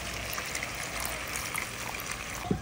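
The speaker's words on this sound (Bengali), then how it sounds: "মশলাটা কষানোর জন্য দিয়ে দেবো হালকা পরিমাণ পানি" A short, steady trickle of water runs into frying masala in a pan, soft and continuous with a small clunk near the end, no talking.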